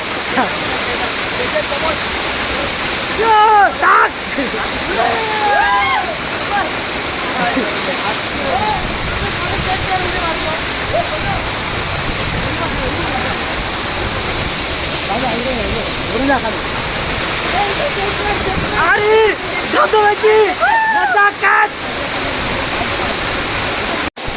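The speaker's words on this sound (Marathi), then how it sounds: "हा आमचा धबधबा आहे" A forest waterfall in the Ratnagiri area roars loud and steady throughout, with people talking and calling over the rushing water.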